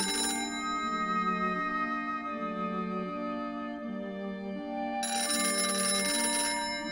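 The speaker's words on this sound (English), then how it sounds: "it's been known for a disconnected phone to ring" Telephone ringing sound effect: a steady, loud electronic ringing tone that repeats in even bursts, with a brighter, harsher bell layer joining near the end.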